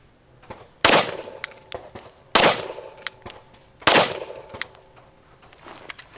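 Three loud, sharp gunshots from a rifle fired at a backpack outdoors, spaced evenly about a second and a half apart, each followed by a short ringing tail and smaller clanks.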